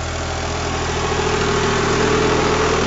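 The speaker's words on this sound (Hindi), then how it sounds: "चल रहा ट्रैक्टर" Tractor engine running in a sugarcane field, a loud, steady, continuous droning rumble with an even mid-pitched hum throughout and no voices.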